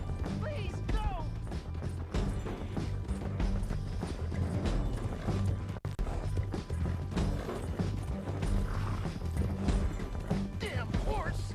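A horse in the Red Dead Redemption 2 game, hooves clattering in a quick clip-clop rhythm along with creaking tack and thuds, amid a busy mix of voices and game noise.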